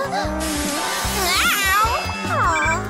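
A cat meows in a children's cartoon, a loud, close series of wavering, drawn-out meows with a hissy edge, heard over bright background music.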